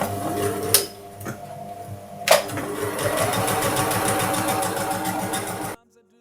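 Sewing machine hemming the top of a jilbab headband, a steady humming, rattling motor run of several seconds after a couple of sharp clicks, ending abruptly.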